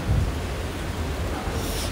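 Rain falls steadily outside as a broad, even hiss with a low rumble near the start, continuous and moderately loud with no voices.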